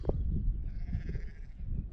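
Lamb bleating on a hillside during a mountain bike ride on a Focus Jam2 6.9, several close, loud bleats overlapping in a continuous wavering chorus over low wind rumble.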